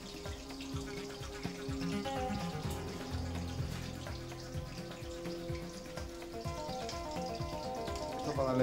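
Garlic cloves frying in oil, ahead of cooking salt cod in a restaurant kitchen: a steady crackling sizzle with dense popping that holds throughout and rises slightly at the end.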